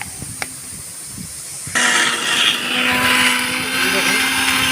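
An electric mixer grinder grinding spices for chicken starts abruptly after a few quiet handling clicks, then runs as a loud, steady high-pitched whirring whine to the end.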